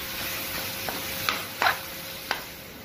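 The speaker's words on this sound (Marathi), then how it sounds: "याच्या व्यतिरिक्त आपण पेस्ट टाकलेलं आहे. 1-2 मिनटं चांगलं आपण परतून घेऊ." Masala paste for mutton curry sautéing in a pan: a steady soft sizzle with a few sharp scrapes and clicks of the spatula against the pan, close and without talk.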